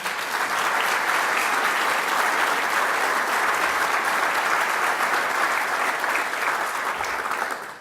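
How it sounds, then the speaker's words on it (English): A fundraiser audience gives a sustained round of applause, steady dense clapping from many hands at moderate level, holding evenly for several seconds before tapering at the very end. "I'd ask you all to give her a round of applause."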